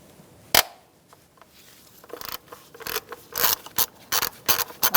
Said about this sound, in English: Undo this bolt.